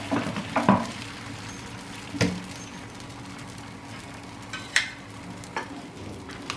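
Dosa batter is spread out on a hot pan for masala dosa, and a steady low sizzle runs throughout, broken by a few scraping strokes and sharp clicks as the batter is worked across the surface.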